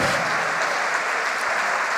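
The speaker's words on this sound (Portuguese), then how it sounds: "vamos aplaudir mais" A church congregation applauds during a sermon, a dense, steady wash of clapping from many hands throughout, fairly loud and uninterrupted.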